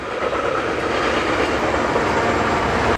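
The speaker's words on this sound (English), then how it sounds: "Train." A train rumbles past loudly and close, a continuous roar of wheels on rails with faint clattering throughout.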